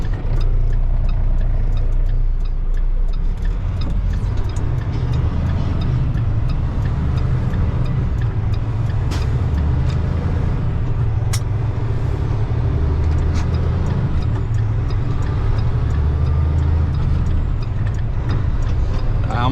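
Cab interior of an empty semi truck with a 10-speed manual gearbox: a steady, loud low diesel drone runs throughout as the driver shifts through the gears, with faint clicks and light rattles on top.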